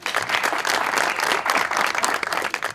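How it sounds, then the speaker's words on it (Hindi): Studio audience applause on a Pakistani TV talk show, steady dense clapping from many hands for a few seconds with no voices over it. "वेरी गुड, तालियां."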